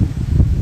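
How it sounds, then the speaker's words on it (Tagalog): Strong outdoor wind buffets the microphone in low, rumbling gusts, a loud close roar that swells briefly in a short burst with no voices over it. "Malakas yung hangin."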